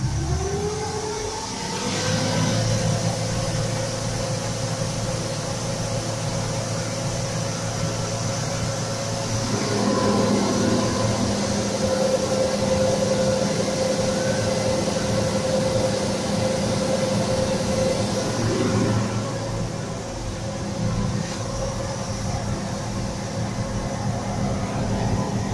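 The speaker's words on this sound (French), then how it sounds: "je vais faire accélérer la batteuse" A combine harvester revs up in a farming video game, a loud continuous mechanical drone with a steady whining hum that holds for the whole stretch.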